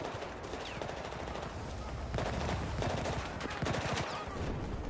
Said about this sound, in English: Is somebody shooting at me?